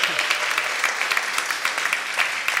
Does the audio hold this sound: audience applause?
yes